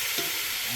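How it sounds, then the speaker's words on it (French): Meat searing in a pan over a wood fire in a village kitchen, a bright continuous hiss of sizzling fat, close and steady with a faint stirring scrape in a brief burst. "Maintenant, ça saisit bien la viande. C'est bien doré."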